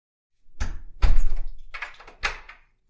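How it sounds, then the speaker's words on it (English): A door thuds shut and a lock clunks, leaving a few sharp knocks and rattles from close by that set crisp against silence. "Coraline locked the door of the drawing room with the cold black key."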